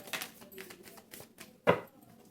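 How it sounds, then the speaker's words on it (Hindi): Tarot cards being shuffled by hand, soft riffling and sliding bursts with one sharp snap near the end, close and fairly quiet with no talking. "this is my last shuffle"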